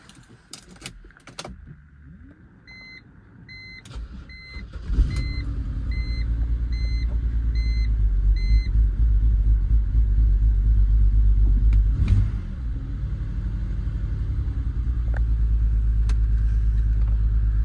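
A 2007 BMW X3 3.0Si with a failed-component fault warning has its keys jangled and chime tones sound before the engine cranks and catches, then settles into a loud, uneven rough idle with a brief surge midway.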